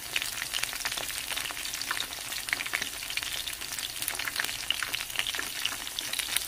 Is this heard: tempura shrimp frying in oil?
yes